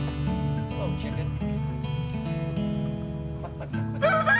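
Backyard chickens cluck and make low, throaty calls close by, a steady run of sounds that turns into a louder, sharper burst near the end, mixed with people talking.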